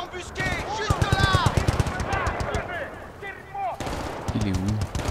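Rapid bursts of machine gun fire in the video game Battlefield Bad Company 2, loud and rattling in repeated volleys through a busy combat scene, with voices speaking between and over the shots.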